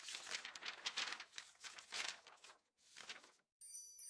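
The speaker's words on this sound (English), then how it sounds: "I think the pages turning is more distracting than anything else" AI-generated close crinkly rustling of paper in several bursts with brief pauses, like pages being turned, ending with a soft tinkling tone.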